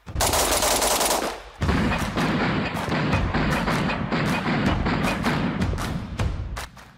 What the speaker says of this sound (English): we're gonna switch to binary 10 rounds with the 223 Red Army Standard Steel Case ammunition with the Muzzle Rise Eliminator.